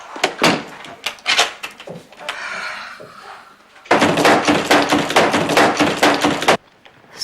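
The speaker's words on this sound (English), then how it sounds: "The door is going to be locked until I say." A door is shut firmly and locked, with a sharp impact followed by a longer stretch of loud rattling and clattering close by, then a sudden drop to quiet.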